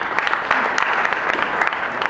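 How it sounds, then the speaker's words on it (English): Audience applause at an inter-school parliamentary debate competition, a dense steady clapping from a crowd close by, continuing throughout. "Let's give a round of applause to him."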